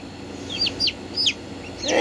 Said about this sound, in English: This one is probably gonna be a chicken.